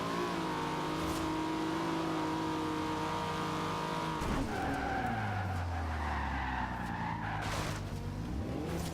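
Cars race in Forza Horizon 2 at San Giovanni, with an engine drone and tires skidding and squealing through a long slide. Shifting revs and pitch sweeps follow, with no voices.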